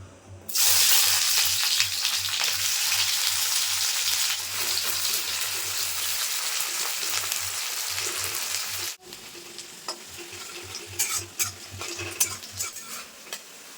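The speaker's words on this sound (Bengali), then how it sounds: "প্রথমে পেঁয়াজের বেরেস্তা ভেজে নেব।" Loud, close sizzling of onions frying in hot mustard oil, a dense crackling hiss that suddenly drops to quieter frying with occasional stirring clinks.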